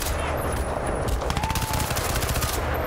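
Automatic gunfire in a first-person shooter video game: a rapid, continuous burst of loud shots rattling through the whole stretch, dense and close, over steady game background noise.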